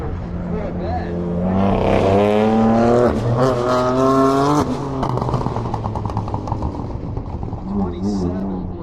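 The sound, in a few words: Corvette race car passing at an SCCA racing event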